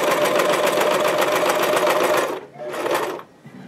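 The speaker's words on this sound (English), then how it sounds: "And sew along the edge, just like that." A sewing machine stitches along the rolled fabric edge of a cosplay peplum, a loud, steady, fast mechanical whirr for over two seconds, then a brief second run.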